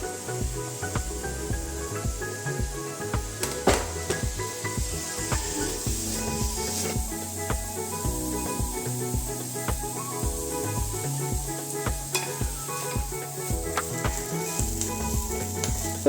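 Tomatoes hitting hot oil in a pan for an egg and green peas masala, giving a steady bright sizzle and hiss that runs throughout, with scattered clinks and stirring scrapes on top, close and unaccompanied by talk.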